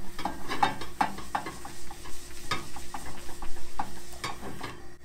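Oil sizzling in a hot pan during seasoning, irregular scraping and stirring strokes over a close, crackling sizzle, with faint ticking contacts and a steady hum.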